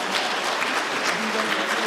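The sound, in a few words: audience applause welcoming a choir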